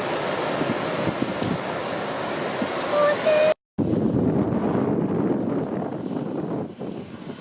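Rough sea surf breaking along the Kangaroo Island coast, a steady broadband wash with heavy wind buffeting the microphone; a brief dropout interrupts the roar midway before it resumes just as loud.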